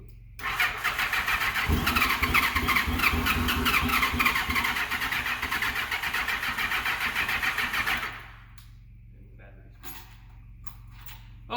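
A long-stored barn-find Yamaha FJ1100 or Honda GL1200 motorcycle engine cranks steadily for about eight seconds with a rapid, buzzing starter rhythm and uneven firing, then cuts off, leaving quiet clicks and faint background sounds.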